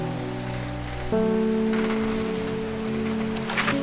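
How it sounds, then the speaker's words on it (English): Steady rain patter in the video game Strange Horticulture over a sustained musical drone, with a tonal shift partway through and light rustling texture on top. "Ah, it's raining again."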